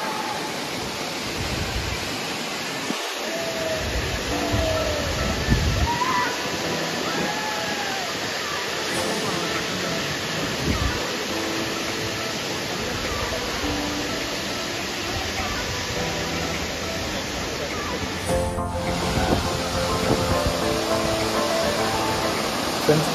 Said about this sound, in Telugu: ఎంత బాగుంది వాటర్ ఫాల్ అనేది